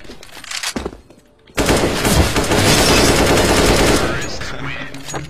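Sustained automatic rifle fire in a competitive first-person shooter, a long loud burst of rapid shots after a short pause, with players talking before and over it.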